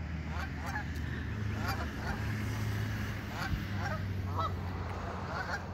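A flock of geese honking near Pikes Peak at sunset, repeated short nasal honks scattered through the clip over a steady low background rumble, fairly close and moderately loud.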